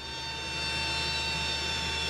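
Steady, loud airplane engine drone at close range, a continuous roar with a high whine as the aircraft's cargo ramp closes on a flight out of Kabul, with no talking.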